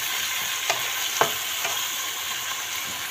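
Tomato fries in a pan for salmon pasta, giving a steady sizzle under a few sharp scrapes and clicks of stirring. The sound is close and continuous, with no one talking.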